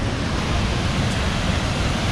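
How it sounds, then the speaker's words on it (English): Chunchi Falls waterfall roaring as a steady, dense broadband rush, close and loud and unbroken throughout, with no voices over it. "This is the waterfall."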